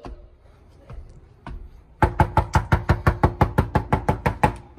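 A rapid, loud series of about sixteen sharp knocks on a door, evenly spaced and close, following a few softer isolated taps.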